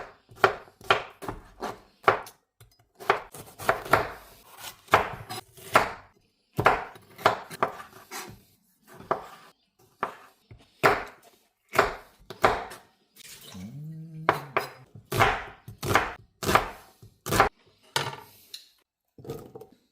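Vegetables for a Greek salad are chopped on a board, a close series of sharp knife strikes in uneven bursts with short pauses between, plus a brief faint clink partway through and no talking.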